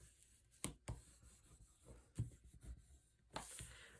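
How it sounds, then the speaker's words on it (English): Paper smoothed down with a burnishing tool while crafting a small Christmas-themed mini book, heard as a few soft rubbing strokes and scrapes with brief sharper bursts near and far apart over about four seconds. "Pull the tape off and burnish this down."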